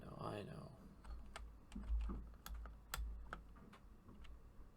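Rapid keyboard typing during a Minecraft session, a steady run of quiet, close clicks and key taps under some background noise, with faint talk nearby.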